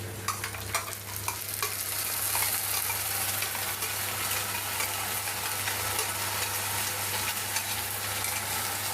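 Ginger-garlic paste frying with browned onions in a pan for a meat curry, a steady close sizzle under brisk, repeated scraping and stirring strokes that are busier at the start and then settle into a constant fry.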